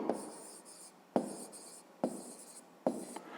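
A math formula being handwritten, heard as four short bursts of pen strokes scratching across paper, close and quiet, separated by brief pauses, with no talking.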